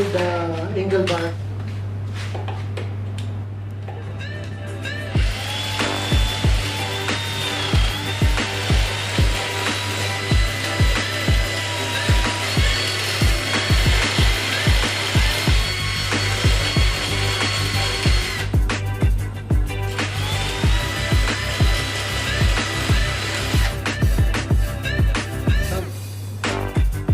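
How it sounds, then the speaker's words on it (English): Harsh grinding and screeching of a drill biting into a steel angle bar, steady and loud with rhythmic pulsing strokes, running for over twenty seconds. "let's do it to drill the angle bar"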